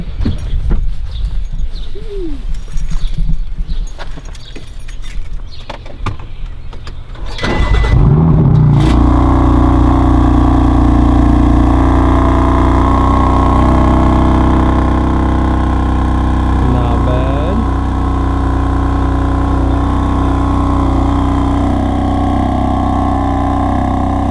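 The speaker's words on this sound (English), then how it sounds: "Time to get a little cold start." A BMW M4 fitted with a RaceChip tune cold-starts with a sharp crank and loud flare, then settles into a deep, steady idle rumble, after a quiet outdoor stretch with birds chirping.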